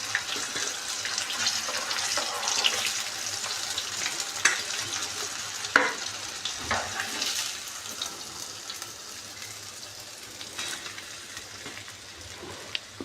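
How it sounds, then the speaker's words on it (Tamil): Fish frying in hot oil in a pan for fish biryani, a close, continuous crackling sizzle with scattered pops and stirring scrapes, slowly easing in loudness. "இப்போ இந்த மீன் வந்து நல்லா பொரிஞ்சிடுச்சு."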